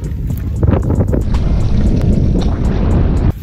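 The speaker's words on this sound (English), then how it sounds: "wind is laying out a little bit" Gusty wind buffets the microphone in a constant rough roar on a river in late winter during fishing, with faint water and boat noises underneath.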